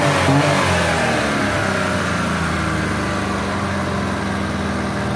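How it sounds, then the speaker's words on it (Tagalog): A Suzuki Multicab engine, newly repaired after sitting idle for almost a year, runs close by, starting with a rev and then settling into a loud, steady, rough idle. No one speaks. "Ngayon running na uli yung multicab."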